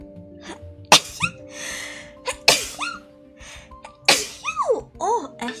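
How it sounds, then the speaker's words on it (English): Several sharp, explosive sneezes burst out one after another, each preceded by a quick inhaling gasp, close and loud, with a person talking briefly between them. "Also, I gotta sneeze."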